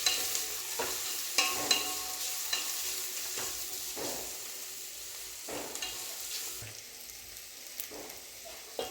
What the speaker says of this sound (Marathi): कोबी थोडंसं आपण परतून घेतलंय।